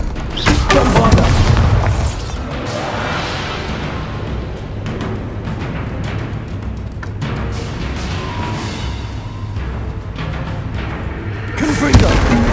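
Confringo fire-spell explosions boom in the Hogwarts Legacy video game: a loud burst opens, followed by repeated blasts and crackling impacts over steady game noise, with a sharp final hit near the end.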